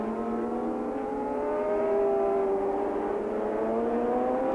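A big V4 Formula One racing motorcycle screams past at high speed at Calder in 1983, its engine a loud, sustained high-pitched whine that rises and falls slightly.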